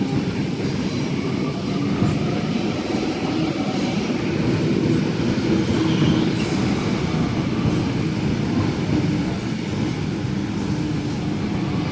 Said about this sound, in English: At Homebush, we have a Series 1 Waratah passing platform number 3 for bound for Emu Plains